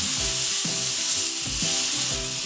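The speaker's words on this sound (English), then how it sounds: "when I turn it, I try and crisp the fat" Halal sirloin steak sizzles steadily in a hot pan as the fat crisps, a dense continuous hiss with repeated low knocks from turning or pressing the meat, close and loud.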